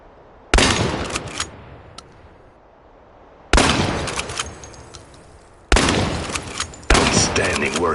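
Shotgun fire in the video game Chernobylite: four loud, sharp blasts spaced a second or more apart, each with a decaying echoing tail.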